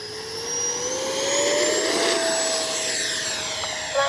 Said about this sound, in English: All right, gonna take off from this direction here.